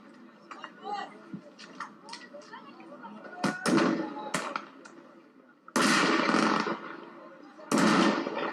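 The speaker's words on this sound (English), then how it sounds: "He's getting shot at." Gunshots ring out during civil unrest, several sharp distant cracks and bursts with louder blasts later, mixed with crowd noise and voices talking over them.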